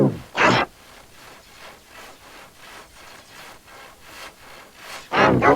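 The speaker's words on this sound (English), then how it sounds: "Scout got to work sawing up all the branches from the tree." Cartoon sound effect of a saw cutting up tree branches: soft, rhythmic back-and-forth strokes, with louder rasping bursts at the start and end.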